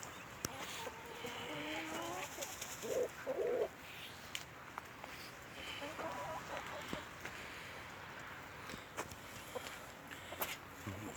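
Chickens clucking softly at a distance among other bird calls, with a few louder clucks standing out over quiet outdoor background noise near a chicken coop.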